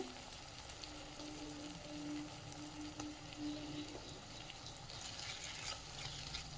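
Ginger garlic paste fries with tomatoes for capsicum rice, a soft, steady sizzle with light stirring and faint watery crackle, quiet and close, with a low hum through the middle.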